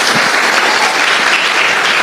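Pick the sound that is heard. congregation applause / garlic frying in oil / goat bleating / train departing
congregation applause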